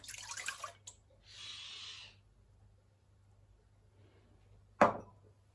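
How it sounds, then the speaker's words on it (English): A short, soft stream of milk poured into a bowl for cinnamon roll dough, following some brief rustling, then a single sharp clink near the end. "pour my milk in here"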